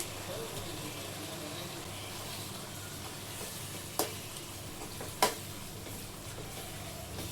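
Onion and capsicum with mint and coriander sauté in hot oil in a pan for paneer gravy, a steady close sizzle with two sharp spoon knocks against the pan.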